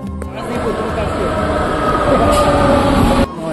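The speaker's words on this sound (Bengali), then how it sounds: "ট্রেন চলে এসছে।" A train rumbles and rattles steadily at close range as it arrives at a station, with voices talking over the continuous rolling noise before it cuts off abruptly.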